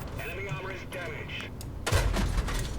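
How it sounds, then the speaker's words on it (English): A tank cannon fires a track shot in World of Tanks, the British AC1 Sentinel tier 4 medium tank, as a loud booming blast near the end. Game sounds and engine rumble run underneath it. "Oh, went for a track shot, no damage."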